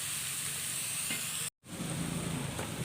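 Pork adobo sizzling in a little oil in a pan, a steady close crackling hiss that cuts out for a moment midway, then resumes just as strong, with no talk.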